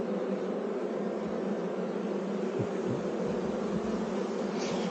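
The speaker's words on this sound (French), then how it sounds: "Ça c'est des abeilles, ça c'est des mâles" Honeybees buzzing in an opened hive during a colony inspection, a dense, continuous drone of many insects close by, steady and unbroken for the whole stretch.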